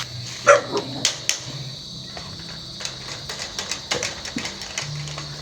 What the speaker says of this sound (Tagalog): Ayun ang aso ko.